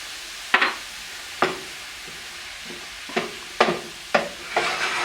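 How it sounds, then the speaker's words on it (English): Mushrooms with shallots and garlic sizzle in a pan while being stirred, several distinct scraping strokes cutting through a quiet, steady fry, close and without talk. "Stir it up well to get the shallots and the garlic in there"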